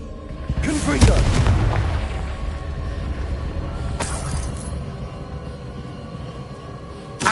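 The Confringo explosive spell in Hogwarts Legacy bursts with a heavy boom and a crackling, shattering blast, then a long rumbling tail broken by sharp debris cracks, with a faint voice in the background.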